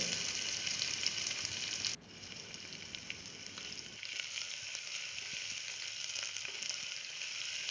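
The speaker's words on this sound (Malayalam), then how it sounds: "എന്നിട്ട് ചെറുതായി മുറിച്ച ഉള്ളി ഇതിലേക്ക് ഇട്ട് കൊടുക്കുക." Chopped onion frying with chana dal in a pan makes a steady, even sizzle that shifts in tone partway through and keeps going without any talking.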